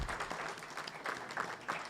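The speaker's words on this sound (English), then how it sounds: "Let's have a round of applause for Montgomery Municipal Cable" Audience applause at a Montgomery County Executive Democratic candidate forum, a steady patter of many hands clapping for about two seconds, fairly close and moderately loud with no talk over it.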